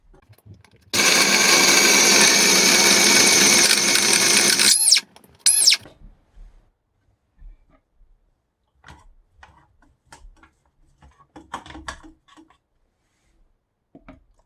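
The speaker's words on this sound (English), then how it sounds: "I have it in my small processor, and I'm going to blend it until it becomes like a paste" A small food processor whirs loudly for about four seconds while blending raisins into a paste, then stops, followed by two short bursts and scattered quiet clicks and handling noises.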